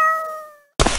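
Cat meowing in the video game Bloons Tower Defense 6: a single short, clear tonal meow, followed by a brief burst of noisy sound.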